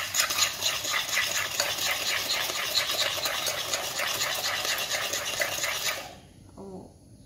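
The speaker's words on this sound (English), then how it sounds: "So sugar and eggs first. Let's start mixing." Sugar and eggs for a mini lemon cake batter being mixed in a bowl, a fast even whisking and clinking that runs close and steady for about six seconds, then stops abruptly, leaving near silence.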